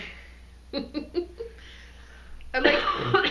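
A few short, harsh coughs close by, bursting out in quick succession, then a louder rough throat-clearing.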